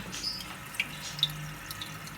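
Water from an aquarium filter running back into the tank, a faint continuous trickle with a few small splashes and drips.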